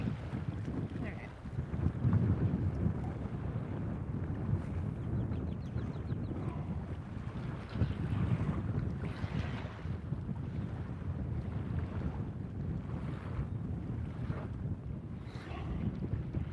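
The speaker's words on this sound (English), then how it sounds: "The wind's blowing so hard I couldn't even get a good cast off." Strong wind gusting across a lake and buffeting the microphone while fishing, a continuous loud low roar that surges and eases throughout, with faint water sounds beneath.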